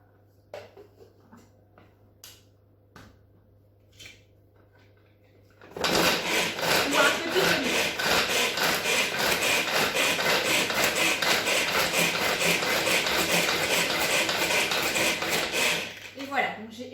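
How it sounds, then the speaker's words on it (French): A Tornado pull-cord chopper works through two small shallots, a dense rapid whirring and clattering that runs steadily for about ten seconds after a quiet start, close and loud. "j'ai émincé 2 petites échalotes grâce au tornado"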